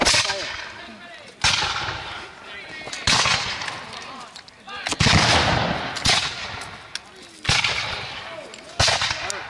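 Musket volleys fired in a reenactment battle at Fort Ticonderoga, New York: several loud, sharp cracks roughly every second and a half, each booming and fading, with shouted commands between.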